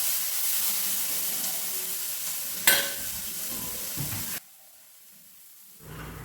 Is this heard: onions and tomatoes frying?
yes